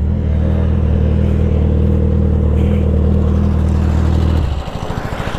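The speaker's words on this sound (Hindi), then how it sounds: "इतनी बड़ी गाड़ी जा रही है, इतना आवाज आ रहा है" Large vehicle passing loudly on a road, a heavy low engine drone with a steady rumbling hum that holds strong and close, then drops away near the end into a lighter, pulsing idle.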